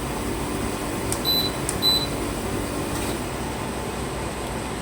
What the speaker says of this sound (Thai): คอมทำงานปกตินะครับ